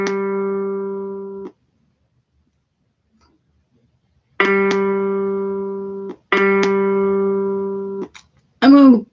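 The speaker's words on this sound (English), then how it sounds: "That's the sound of a G." A single sustained note, a G, sounds three times with pauses between, clear and steady, followed by a brief wavering tone.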